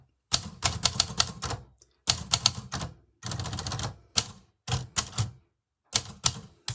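An old manual typewriter clacks out rapid bursts of keystrokes separated by short pauses, crisp and close, each burst a quick uneven run of sharp strikes with silence between, and nobody speaking.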